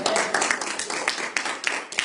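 An audience claps for a speaker, a dense patter of many hands that stays steady for about two seconds. Faint voices mix in.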